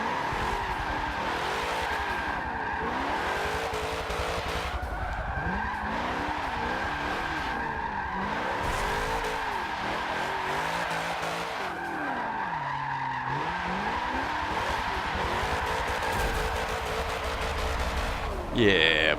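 A drift car squeals and skids continuously through a run, with wavering tire screech over steady engine roar and a couple of sharp impacts from wall taps near the end; no talking.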